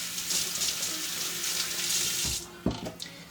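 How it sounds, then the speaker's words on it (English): Hands rinsed under a running kitchen tap while a pie filling is made, a steady close water stream that cuts off partway, followed by a few wet splashes and drips. "And I'm just going to rinse my hands."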